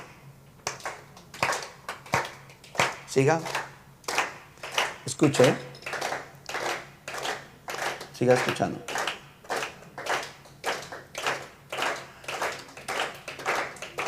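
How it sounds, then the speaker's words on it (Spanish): A group clapping hands together in a steady rhythm during a church teaching exercise, sharp evenly spaced claps close by with a voice speaking briefly over them. "Aplauda conmigo"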